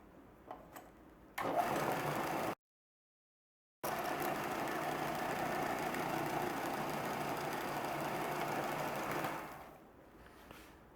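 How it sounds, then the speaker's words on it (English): Belt sander flattening bone scale slabs for a pocket knife to an even thickness, a steady whirring motor hum with a dense rasp, briefly cut off, then running on before winding down. "we need to flatten them and get them uniform thickness, and we're going to do that on the belt sander"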